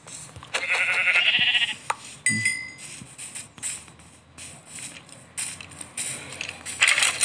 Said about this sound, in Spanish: ¡Ay! La oveja.